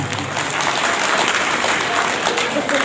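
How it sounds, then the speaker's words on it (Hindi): An audience at a public speech on the Indian constitution claps steadily, a dense, continuous burst of applause heard close and loud throughout. "ये जो आप ताली बजाते हो"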